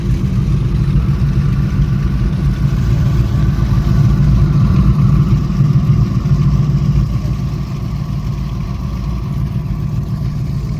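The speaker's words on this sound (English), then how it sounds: "Listen to the idle. Listen to the power behind those engines." Boat engines idling on a lake outing near Bobcaygeon, a steady, loud low rumble that holds evenly throughout with a slight drop in level toward the end, with no voices.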